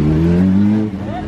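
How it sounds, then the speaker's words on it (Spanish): A motorcycle going more than 100 rushes past with a loud, close engine whine that drops in pitch and fades away within about a second. "Nos pasó la moto a 100 y pico por ahí"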